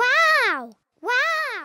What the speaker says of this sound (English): An echo is the sound you hear when you speak loudly in the mountains.